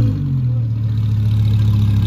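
A pack of Lamborghinis, including an Aventador SV, Huracans and a Gallardo Superleggera, cruising a highway, with a loud, steady low engine drone holding close and constant throughout.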